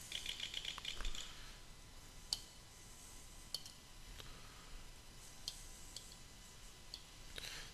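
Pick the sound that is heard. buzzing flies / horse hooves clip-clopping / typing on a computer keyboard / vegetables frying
typing on a computer keyboard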